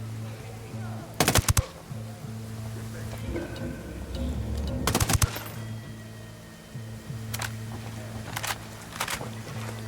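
Gunfire in the tactical shooter Ghost Recon Wildlands, several short loud automatic bursts spaced a few seconds apart over a steady game background hum, with faint in-game activity between volleys.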